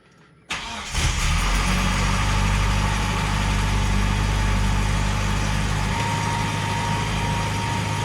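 A 1988 Dodge Raider 4x4 engine catching on a cold start with a sudden loud crank and fire, then settling into a steady, rough, loud idle close by that eases slightly lower after several seconds.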